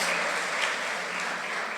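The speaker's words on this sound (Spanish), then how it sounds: "Dele un aplauso al Señor de gratitud." A church congregation applauds during a sermon on depression. The clapping is brief, dense and even, a steady patter at moderate volume with no voices over it.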